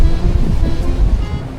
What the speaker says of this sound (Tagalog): Nakaharap tayo sa dagat.